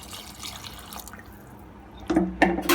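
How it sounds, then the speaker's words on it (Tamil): After a quiet stretch with faint background noise, water pours and splashes in short bursts close by into a cooking pot of lamb head curry. "நான் இப்போ இதில் கொஞ்சம் தண்ணி ஊற்றிக்கிறேன்."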